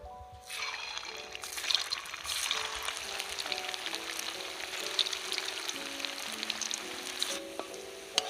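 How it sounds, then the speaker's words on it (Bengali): Chicken doi bora fritters fry in hot oil, a close, bubbling sizzle that swells up after a short quiet start and holds steady before easing slightly at the end. "এই দেখুন বন্ধুরা পরে যেগুলো দিয়েছিলাম সেগুলো কি সুন্দর ভাজা হয়ে গিয়েছে।"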